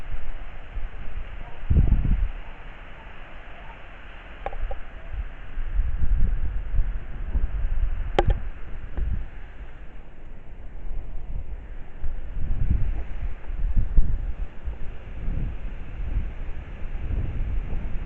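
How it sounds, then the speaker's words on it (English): Wind blowing outdoors at night in the churchyard of St Mary the Virgin, Clophill: a steady broad rushing hiss with low gusty rumbles buffeting the microphone, continuous throughout with no voices. "You can hear the wind."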